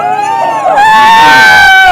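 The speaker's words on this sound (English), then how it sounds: "It remains only for me to ask you to raise your voices in cheer and welcome" A crowd at the Maryland Renaissance Fair 2021 raises its voices in cheers and shouts of welcome, a loud swell of overlapping yells and whoops that grows fuller after the first moment.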